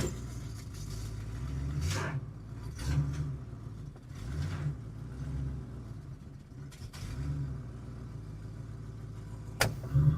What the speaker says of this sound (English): I'm not touching the gas. It's a high idle.